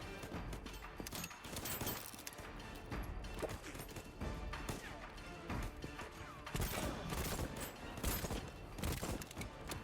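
Dense video game gunfire from Voidtrain, rapid overlapping shots and crashing impacts in a continuous loud barrage, with occasional heavier bursts and little pause throughout.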